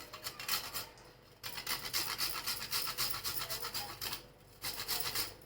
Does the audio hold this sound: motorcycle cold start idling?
no